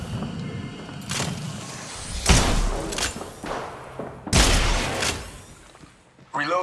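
Gunfire in a shooter video game: several heavy booming shots with thuds land at intervals amid a busy, noisy game backdrop, loud and close, with a final burst at the end.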